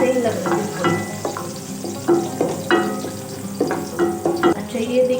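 Garlic fries in a pan for a chicken and moringa soup and is stirred, giving close, loud scrapes and clatters of the spoon in a repeating rhythm over a soft sizzle.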